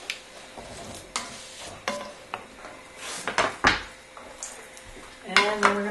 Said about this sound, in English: So let's throw in the tomatoes.